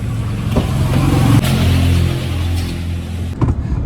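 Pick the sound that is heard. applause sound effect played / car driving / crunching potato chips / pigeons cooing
car driving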